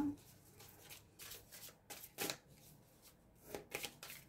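Tarot cards being shuffled and drawn by hand, a run of soft papery riffles and slides in short bursts, close and quiet with no voice over them.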